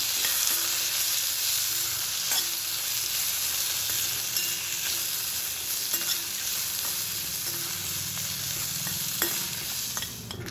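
Tomato sautéing in a pan for peanut chutney, a steady loud sizzle with occasional stirring scrapes and clicks throughout, no voices.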